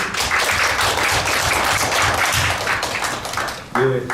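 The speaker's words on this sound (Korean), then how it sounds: "큰 박수로 환영해 주십시오" Dense, steady applause from an audience at a Korean policy debate, sustained for several seconds before a brief voice at the end.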